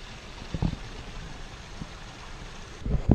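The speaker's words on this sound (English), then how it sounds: "We could hear water, heard a little river" Faint, steady rush of flowing water, like a small river a short way off, in Zion National Park, Utah, with a few soft bumps and thuds close by.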